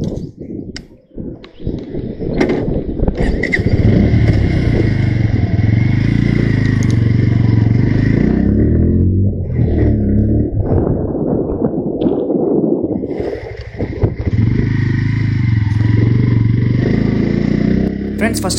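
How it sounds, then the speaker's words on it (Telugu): A Bajaj Pulsar N150 motorcycle with an underbelly exhaust is ridden on the road. After a brief clatter at the start, the engine note holds steady and loud with shifts in pitch, and someone talks over it. "ఫస్ట్ ఆఫ్ ఆల్ మనం పల్సర్ N150 అయితే రైడ్ చేద్దాం"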